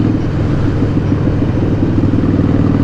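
Harley-Davidson Sportster motorcycle on a ride around Ironbridge, its engine a loud, close, steady throbbing rumble that holds without a break from start to finish.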